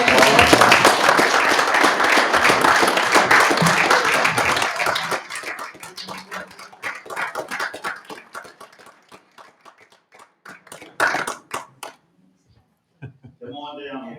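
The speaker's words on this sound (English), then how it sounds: "We give them all a big round of applause." A round of applause at a city council meeting, a crowd clapping steadily for several seconds before fading into sparse claps with some voices and room sounds.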